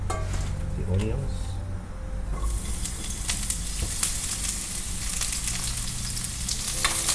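Onions hit hot oil in a pan for a quick ramen stir-fry, and a bright sizzle swells after a couple of seconds and holds steady with scraping stirs, a voice briefly talking near the start.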